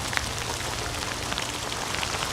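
Steady rain patters on a surface, a dense, continuous hiss with occasional distinct drops and no voices, where purple martins are being watched.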